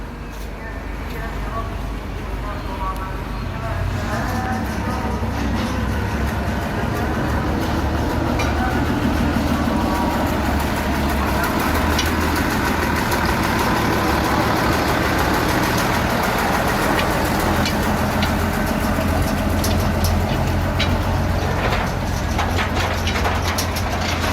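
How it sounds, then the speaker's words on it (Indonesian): A heavy rumbling engine drones steadily with rattling, clanking rail noise as a loaded plantation lorry train rolls past on its track, loud and continuous. "kereta lori isian ram akan segera melewati"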